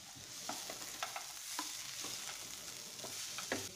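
Grated beetroot and carrot with fried nuts and raisins cooking in a pan for vegetable chops: a close, soft sizzle broken by a dozen or so quick spatula scrapes and stirs over a few seconds.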